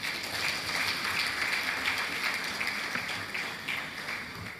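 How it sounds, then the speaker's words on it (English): An audience at a formal ceremony for a bishop's seventieth birthday gives a round of applause, a steady, moderately loud spread of clapping lasting throughout without talk. "Please give him another round of applause."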